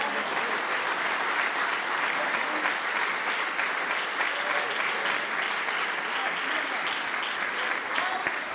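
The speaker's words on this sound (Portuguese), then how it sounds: "As palmas louvem o Senhor" A church congregation claps in praise, a thick continuous wall of hands from many people held at an even level throughout, with faint voices mingled in the crowd.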